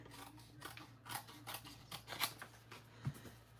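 Scissors trimming a stamped paper craft piece for a sunflower card, a series of soft quick snips close by in a quiet room.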